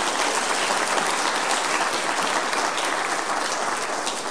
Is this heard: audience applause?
yes